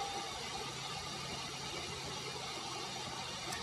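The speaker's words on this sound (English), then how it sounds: "start the vehicle" A car engine idles at a steady, low, fairly faint rumble with no clear change in pitch and no one speaking.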